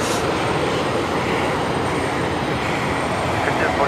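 Jetstar Airbus A320neo approaching Brisbane Airport, a steady broadband jet engine roar that stays loud and continuous throughout, heard from an outdoor plane-spotting position with a faint voice underneath.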